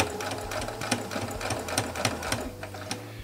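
A sewing machine backstitches along bias binding, a fast, steady mechanical whirring with regular needle clicks, close and clear over a few seconds.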